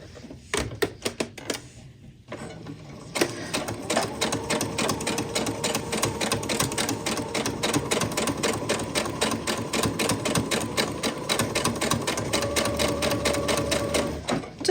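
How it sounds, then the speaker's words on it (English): A sewing machine stitches along a fabric edge, a close, rapid, even mechanical chatter that starts after a few brief bursts and then runs continuously with slight speed changes. "And now I'm just going to sew along that edge."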